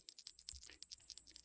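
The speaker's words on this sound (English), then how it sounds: "That bell means it's time to move on to our art section." A bright electronic bell or chime rings in a quick repeating pattern signalling time to move on during a live crossword solve, with a faint low bump partway through.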